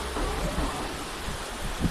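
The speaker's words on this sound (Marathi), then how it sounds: "भयानक पाऊस झालाय आज." Heavy monsoon rain in Nagpur, driven by strong wind, pours as a loud, broad rushing noise with low rumbling gusts and no talking.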